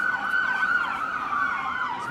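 An ambulance siren wails loudly and steadily, its pitch sweeping up and down in a repeating pattern, fairly close with faint road noise beneath.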